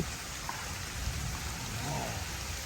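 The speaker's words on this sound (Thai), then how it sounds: "โอ้ยฝนตกอย่างนี้กูหมดนอนจริง" Steady rain falls throughout, a dense, even hiss with a faint low rumble underneath, continuous and unbroken with no voices.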